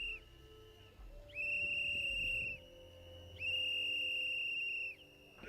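Shrill in-game whistle in Fallout 76, blown in two long sustained blasts with a brief dip between them, clear and loud over a quiet background.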